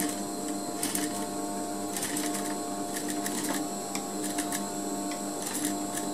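A tailoring sewing machine stitches a trouser zipper fly in quick, rattling bursts with short pauses, close and moderately loud against a steady background hum.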